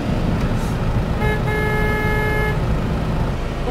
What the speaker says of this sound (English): I get so excited by the beeping.